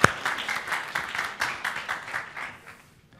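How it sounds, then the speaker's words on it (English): Seminar audience applause, a short burst of fairly close hand clapping in an uneven rhythm that tapers off after about three seconds. "A round of applause."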